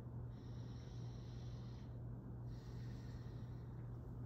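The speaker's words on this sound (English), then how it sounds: "Go ahead and take a deep breath." A patient draws deep breaths during a head-to-toe nursing assessment: two long, soft airy inhalations separated by a short pause, quiet and close against a low background hum.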